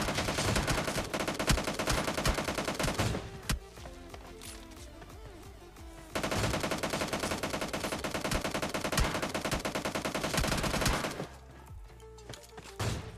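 Sustained automatic gunfire in PUBG Lite, loud dense bursts of rapid shots with brief pauses between volleys, no talk.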